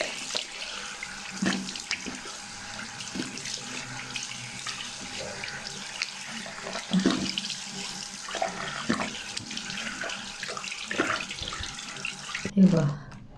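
Tap water runs steadily into a sink while a face is rinsed, a continuous close splashing wash that carries on throughout with small bursts of movement.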